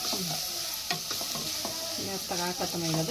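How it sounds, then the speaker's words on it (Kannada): Cooked vegetables are mixed with a paste and salt in a hot pan: brisk, repeated stirring scrapes ride over a constant sizzle, with faint voice-like tones in the background. "ಪೇಸ್ಟ್ ಮತ್ತು ಉಪ್ಪು ಹಾಕಿ ಮಿಕ್ಸ್ ಮಾಡ್ಬೇಕು"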